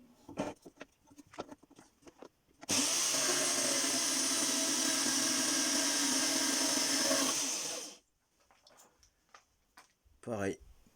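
Soft clicks and handling noise, then a Scheppach MBS1100 metal band saw cutting 3 mm steel angle whines loudly and steadily for about five seconds and winds down, followed by more quiet clatter.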